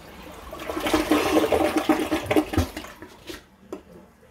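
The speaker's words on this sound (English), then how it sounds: "But it flushed." A household toilet flushes right after being cleared with a toilet auger, a close rushing swirl of water that builds, churns for a few seconds, then drains away into gurgles and drips.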